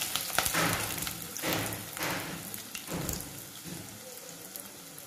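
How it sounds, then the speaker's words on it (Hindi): Onions frying in oil in a kadhai while cooking palak paneer, a soft steady sizzle and crackle that swells in a few waves, close but fairly quiet, with no talk. "अब कढ़ाई में हम तेल में हम प्याज डालेंगे"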